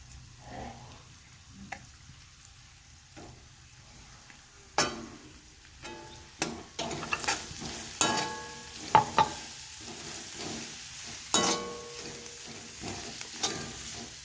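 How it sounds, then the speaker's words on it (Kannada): Tempering for masala chitranna sizzling in a pan while being stirred, with soft frying hiss and intermittent sharp scraping and clinking spoon strokes growing busier over time; no speech. "ನೀವು ಒಗ್ಗರಣೆ ಹಾಕ್ಕೊಬಿಡಿ ಅದನ್ನ"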